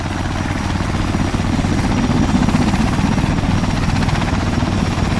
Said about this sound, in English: Let's check what's happening with this helicopter right here.